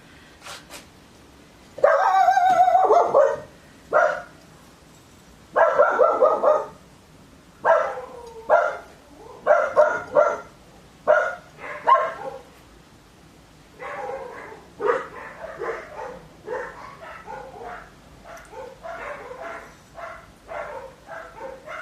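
Several dogs bark repeatedly nearby, loud sharp barks in irregular clusters, some yips mixed in, with quieter barking continuing toward the end.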